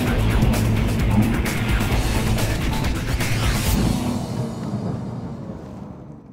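A Lotus Evora S sports car with IPS automatic gearbox drives on a circuit, its engine roaring loudly and steadily close by before fading away toward the end.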